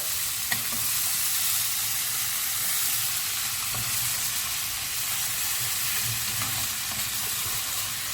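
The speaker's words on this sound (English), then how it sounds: "And all that butter's foaming in there." Butter foams and sizzles loudly in a hot pan with rapeseed oil, a constant bright crackling fry with occasional faint clicks, close up and with no voices.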